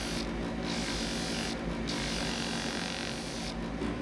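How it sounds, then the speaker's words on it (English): Steady, continuous rasping scrape of sandpaper worked over wood, close up, with slight surges in the strokes and no talking. "Sanding it down quickly, just like always."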